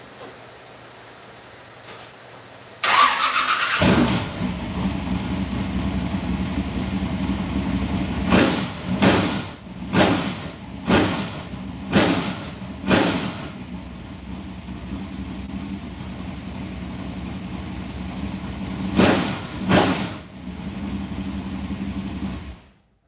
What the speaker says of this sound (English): I was just telling them that I'm not satisfied with this motor.